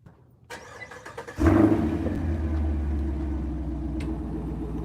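A Chevrolet Camaro engine starts up with a loud burst, then settles into a steady, throaty idle rumble close by with no one talking.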